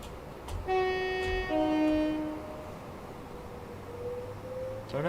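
Class 390 Pendolino electric train in Train Sim World, Trent Valley line, passing with a loud two-tone horn blast early on, then a steady rumble and a rising whine as it runs by alone.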